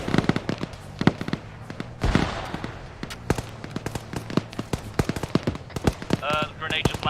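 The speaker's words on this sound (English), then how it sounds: "Somebody started shooting." Gunfire during a large multiplayer Arma military battle: dense, irregular cracks of rifle and automatic fire near and far over rumbling background noise, with a voice briefly audible near the end.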